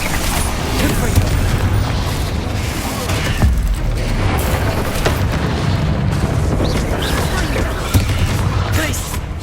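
Confringo blasting spells explode during a Hogwarts Legacy battle. The booms and impacts are loud and continuous, crowding together over busy combat noise, and voices are heard underneath.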